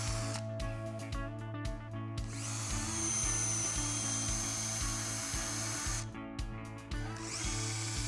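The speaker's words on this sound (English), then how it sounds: "Pre-drill the screw locations using the 1/8 inch drill bit." A power drill with a 1/8-inch bit whirs in short bursts while pre-drilling screw holes, then runs steadily for several seconds before winding down and starting again, close and clear.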